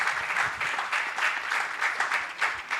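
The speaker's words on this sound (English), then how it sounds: "A round of applause for Peter, the convener." A conference audience at a digital assets summit in Africa breaks into steady, dense applause, a continuous wash of many hands clapping at moderate distance with no talking over it.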